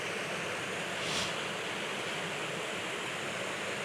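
Wanderlust Falls, a waterfall in the Ozark National Forest, gives a steady, loud, broadband rush of falling water that stays even throughout, with no voices.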